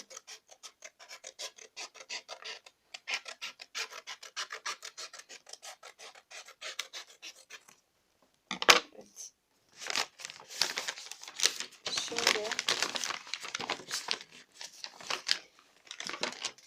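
Scissors snip through a sheet of A4 paper while a paper lantern is made, giving a long run of quiet rasping cuts, a short pause, then louder, denser crinkly snipping close by with no talking.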